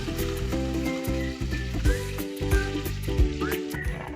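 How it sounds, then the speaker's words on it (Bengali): Garam masala and chopped onion sizzle in hot oil in a large pot for biryani, a steady crackling fry close up with brief stirring scrapes. "এরপর বড় হাঁড়িতে পরিমাণ মতো তেল দিয়ে তাতে গরম মশলা আর পেঁয়াজ কুচি ছেড়ে দিলাম।"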